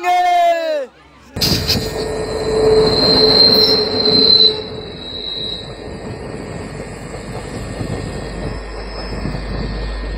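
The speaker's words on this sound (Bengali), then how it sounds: "আমাদের ট্রেন দাঁড়িয়ে রয়েছে আর পাশে দিয়ে বেরিয়ে যাচ্ছে একটি ট্রু ট্রেন।" A passing train rolls steadily alongside a stopped train on a Maha Kumbh 2025 trip, heading toward Howrah. A loud continuous rumble carries a high wheel squeal, with faint voices near the start.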